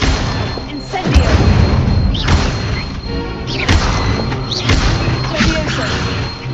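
Incendio fire spell cast in Hogwarts Legacy, a run of loud booming blasts and crashing impacts with whooshing bursts, heavy and repeated, with voices talking over the action.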